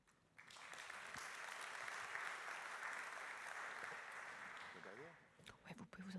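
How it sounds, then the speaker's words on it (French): Audience applauding at an awards ceremony, sustained even clapping from a crowd that fades out near the end, with a few voices talking over the tail. "On l'applaudit."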